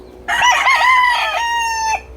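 A fighting rooster gives a single loud, close crow, rising and then trailing off in a long drawn-out note, with no talk over it.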